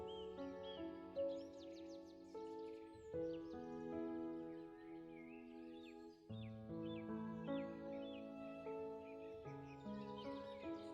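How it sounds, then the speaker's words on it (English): Large tropical macaw parrots call with raspy, harsh squawks and chattering notes, repeated over several seconds against a layered background of other birds, moderately distant and fairly faint. "Macaw. Large tropical parrots with long tails and loud voices."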